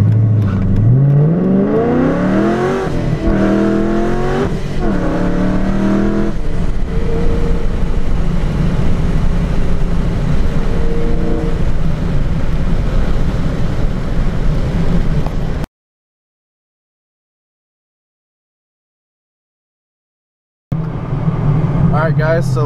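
A supercharged 5.7-litre Dodge Challenger R/T accelerating from a standstill, heard from inside as the engine and supercharger whine climb through several gear changes, loud and close. A voice talks over it, then the sound cuts out briefly before a short return.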